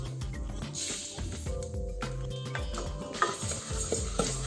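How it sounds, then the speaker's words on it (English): Basmati rice is stirred through hot oil and aromatics in a wok, with repeated scraping strokes and clinks over a low sizzle. "you want to give it a good stir, get it all mixed in with oil and the aromatics"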